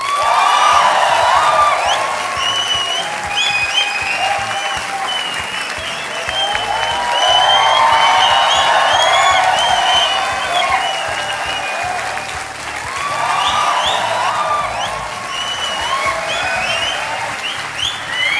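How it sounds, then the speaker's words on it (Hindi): Studio audience at a televised Indian courtroom-style talk show bursts into sustained applause with scattered cheers and whoops, loud and steady throughout, swelling in waves without any speech over it. "और ये तालियां बजते रहें"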